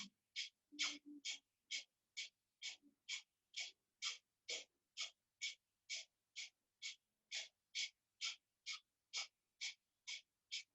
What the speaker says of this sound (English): we're going to do breath of fire for 3 minutes